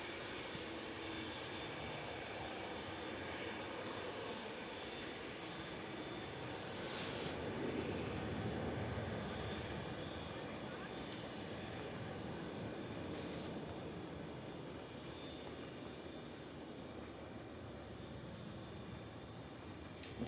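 An airliner bound for Paphos is pushed back at Manchester Airport, its engines giving a steady, unbroken droning rumble at moderate distance for the full stretch, with no voices.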